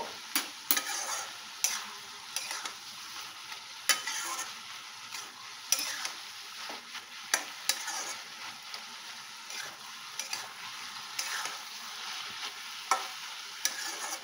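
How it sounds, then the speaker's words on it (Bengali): Hilsa fish head and ash gourd curry gets stirred in a pan after sugar is added: soft sizzling runs steadily under repeated scraping spoon strokes, quiet and close, with no talk. "চিনিটা দিয়েও নাড়াচাড়া করে নেব"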